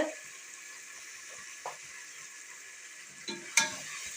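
Onions with ginger garlic paste and green chillies sautéing in a pan for kalan (mushroom) biryani, a steady low sizzle with a few soft stirring scrapes and clinks near the end.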